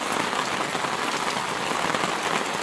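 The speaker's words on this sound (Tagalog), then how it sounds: "Kaso umulan eh." Steady rain pours down while people wait out a shower in the Philippines, a dense even hiss that holds constant and fairly loud throughout with no voices.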